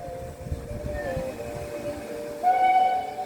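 A 4F steam locomotive on the line from Keighley to Ingrow sounds its whistle in steady tones, swelling louder near the end over the low rumble of the moving train.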